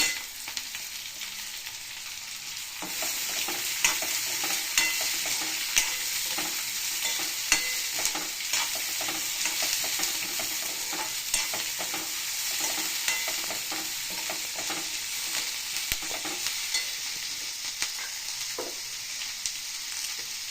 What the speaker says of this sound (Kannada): ಈಗ ಒಂದು ದೊಡ್ಡ ಉಳ್ಳಾಗಡ್ಡಿ ಹೆಚ್ಚಿಟ್ಕೊಂಡಿದ್ಮೇಲೆ ಇದೊಂದು ಉಳ್ಳಾಗಡ್ಡಿ ಹಾಕ್ತೀನಿ.